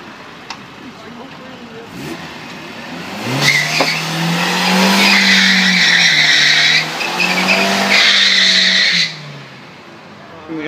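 A Volvo 740 doing a burnout: the engine revs up and the tires squeal loudly in two long sustained bursts with a short break between them, close and dominant over the scene.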